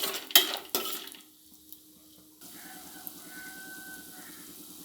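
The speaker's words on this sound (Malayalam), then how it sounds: "ഒരു 1/2 കപ്പ് അളവിന് കപ്പലണ്ടി നമുക്ക് ഇതിനകത്ത് ചേർത്ത് കൊടുക്കാം. ഇത് ചെറുതായിട്ടൊന്ന് ചൂടാക്കി എടുക്കണം." Half a cup of peanuts is heated and stirred in a pan: a few sharp scraping clatters of a spoon against the metal at the start, then a quiet low sizzle with faint stirring scrapes.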